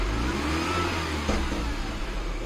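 A Mini Cooper S R53 engine hums close by and lifts slightly in pitch as the throttle opens a little, a short, modest rev.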